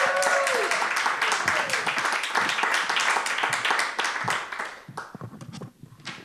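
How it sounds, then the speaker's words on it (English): An audience at a live Edinburgh festival programme claps warmly for an arriving guest, a dense burst of applause that thins and fades toward the end. "Please give a big round of applause for Bella Younger."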